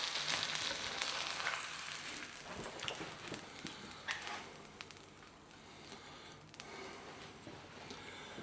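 An egg frying in a hot pan gives a loud, continuous crackling sizzle with scattered sharp pops and spits. The hiss eases slightly toward the end, and no one speaks.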